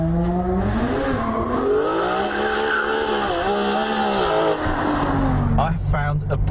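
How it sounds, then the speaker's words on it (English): A Ferrari 599 GTO engine revs loudly and close, its harmonic wail climbing and falling through several throttle sweeps before dipping and easing off near the end. "I found a brand new musical instrument. It's called a Ferrari 599 GTO."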